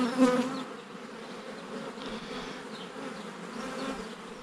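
Bees buzz during a routine beehive inspection, a steady low drone of many insects close by with a louder pass near the start, no talking.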